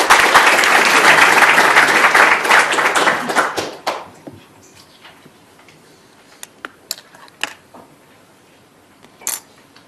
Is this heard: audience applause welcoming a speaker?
yes